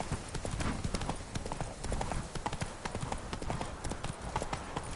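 Roach, a horse in The Witcher 3 (Blood and Wine), gallops with steady, rapid clip-clop hoofbeats close by, running continuously under game ambience while a voice speaks briefly.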